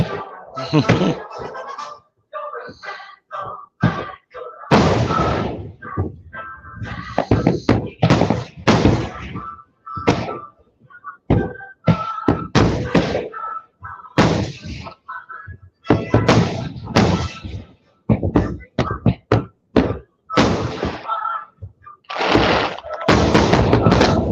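Independence Day fireworks show booming in rapid volleys, loud close bursts and crackling thumps rolling one after another with brief gaps between salvos.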